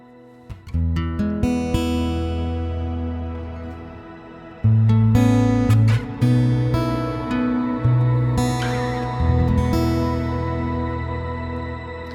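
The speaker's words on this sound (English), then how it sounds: "You can hear that shimmer in the background." Several guitar chords are strummed and left to ring, each trailing into a bright, shimmering reverb wash from a shimmer reverb effect that hangs in the background.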